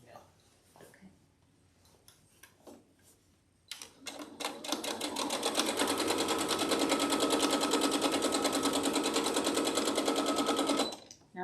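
Domestic sewing machine stitching the seam of a quilt backing at a half-inch allowance, running steadily and loudly for about seven seconds after brief quiet handling sounds.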